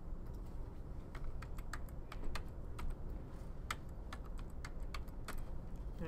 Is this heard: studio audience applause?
no